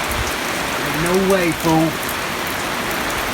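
Rain falls steadily outdoors in a dense hiss throughout, with someone speaking briefly over it.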